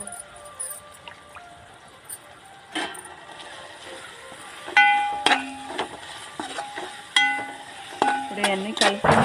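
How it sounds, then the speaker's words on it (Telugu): Chicken pulao masala frying in a pan, a soft sizzle broken by repeated sharp clinks and scrapes of a ladle against the metal, close and irregular. "కొంచెంసేపు పచ్చివాసన పోయేదాకా వేయించుకుందాము"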